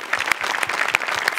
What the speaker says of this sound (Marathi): जोरदार टाळ्या पुन्हा एकदा